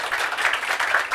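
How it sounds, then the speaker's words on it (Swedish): Audience applause at a Swedish seminar talk on terror threats and surveillance, a steady patter of many hands clapping at moderate loudness for a little over a second. "Genom en stor applåd."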